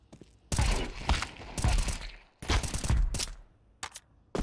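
Gunfire cracks through a wall in a first-person shooter video game: several loud, sharp bursts in quick clusters, separated by brief quiet gaps.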